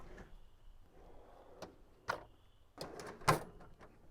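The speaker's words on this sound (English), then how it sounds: "to open the drawers, just push and they pop out" Push-to-open aluminum kitchen drawers on an Arkto G12 lightweight overland camper trailer are pressed and pop out, giving several soft clicks and muted thumps, sharpest near the end, close and quiet with no talk.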